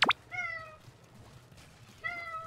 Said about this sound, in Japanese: わあ、今度別の猫来ましたね。